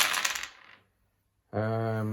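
Handful of dice tumbling and clattering on a tabletop during a Warhammer 40k game, a dense rattling burst that fades out, followed after a pause by a low steady hum.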